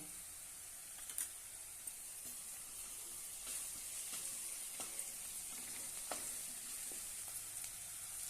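Curry leaves and ginger-garlic paste sizzle steadily in hot oil for a spicy potato curry, a continuous close hiss with scattered crackling pops and no talk.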